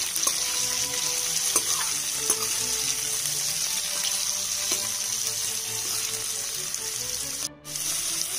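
Onions frying with spices and cumin seeds over a medium flame, a steady close sizzle with faint stirring scrapes throughout.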